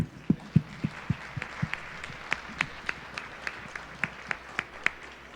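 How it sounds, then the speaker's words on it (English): During a closing conference session, a small group gives sparse, scattered claps, each hand clap distinct and separate, fairly quiet, slowing and thinning over a few seconds. "And I want to give you, actually, a nice round of applause"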